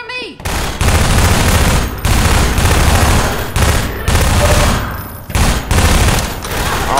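Dense bursts of gunfire from the video game Crackdown (Riot Act) fill the clip, loud and continuous with brief gaps, automatic fire and explosive hits layered together.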